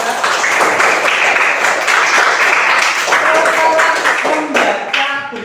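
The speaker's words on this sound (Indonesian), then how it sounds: "Ya, tepuk tangan Nila." A class of students claps together in a classroom, a dense, steady patter of many hands that holds loud throughout and thins out near the end.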